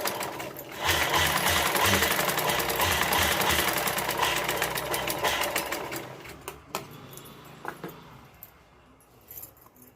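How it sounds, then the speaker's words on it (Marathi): Sewing machine stitching a fabric hand bag, running continuously and loudly up close for about six seconds, then slowing into a few scattered mechanical clicks and taps. "आता ह्याला टिप मारायची"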